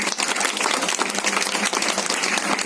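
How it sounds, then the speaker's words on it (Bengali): An audience applauds for a team of volunteer members, a dense, steady wash of clapping hands that continues without a break. "আপনাদেরকে বলবো হাততালি দেওয়ার।"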